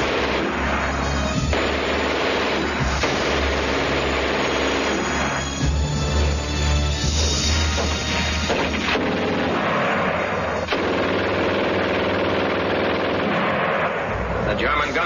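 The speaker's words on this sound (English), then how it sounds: "The German gun shoots fast." Rapid bursts from a German machine gun, loud and continuous with booming artillery-like blasts layered in, the firing dense and unbroken throughout.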